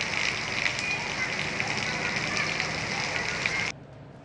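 Heavy monsoon downpour in Sindh, a dense, steady hiss of rain that fills the scene loudly and evenly for over three seconds before cutting off abruptly.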